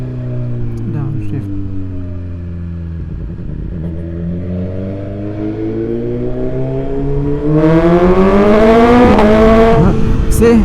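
A BMW S1000XR M Package motorcycle fitted with an Akrapovic titanium exhaust downshifts, its loud, close engine note falling then climbing into a rising rev with strong harmonic drone, the exhaust filling the clip.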